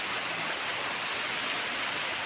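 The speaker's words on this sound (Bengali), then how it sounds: "অনেক সুন্দর বৃষ্টি হচ্ছে" Heavy rain pours down outdoors, a dense, steady hiss that fills the whole clip without a break and sounds close and loud, with no talking over it.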